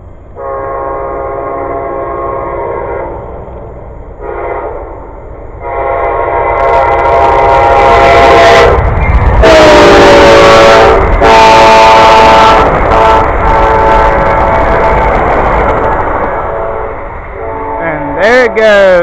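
An Amtrak train passes close by, its horn sounding in loud sustained blasts over the heavy rumble and clatter of the cars, with a speaking voice at times underneath.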